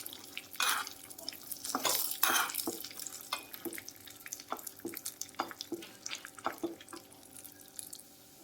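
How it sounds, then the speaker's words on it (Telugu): Cashews and peanuts frying in a pan until reddish for bisi bele bath, with a soft sizzle under frequent sharp clicks and scrapes of a stirring spoon, close by. "అలాగే 2 టేబుల్ స్పూన్స్ గోడంబి బాగా ఫ్రై చేసుకోవాలి."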